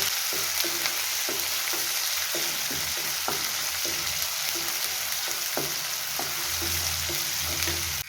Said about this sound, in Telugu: అల్లం వెల్లుల్లిపాయ పేస్ట్ పచ్చి వాసన పోయేంత వరకు వేసుకున్నాము. వేగిపోయింది కదా ఇది.